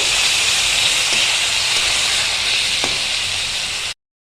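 Soaked mung dal frying in a pan with cumin and ginger paste, a loud steady hissing sizzle with faint stirring ticks that cuts off abruptly near the end.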